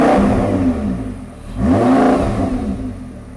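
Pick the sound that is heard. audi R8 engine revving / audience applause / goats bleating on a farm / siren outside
audi R8 engine revving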